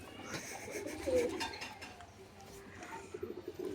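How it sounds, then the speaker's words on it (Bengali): Pigeons coo softly in a loft where a female bird is shown for sale, low murmuring calls rising through a steady background with a faint clink of metal. "এটা মাদি পায়রা দেখতে পাচ্ছ"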